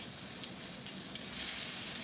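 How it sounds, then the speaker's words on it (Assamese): Pointed gourd pieces fry in hot oil in a wok, giving a steady, close, even sizzle that continues without a break and swells slightly toward the end. "এতিয়া তেলত ভাজি লওঁ ভালকৈ সেইভাগে ভাজি লওঁ"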